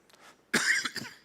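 A single harsh cough bursts out after a moment of faint breathing, loud and close, with a brief rough second burst trailing off at the end and no talk.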